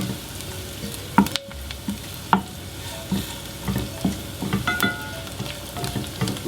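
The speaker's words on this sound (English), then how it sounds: "So that's our onions just softening up." Onions softening in a pan for Greek shrimp a la Spetsiota, a steady low sizzle with the occasional stir and scrape of a utensil, close and continuous with no talking.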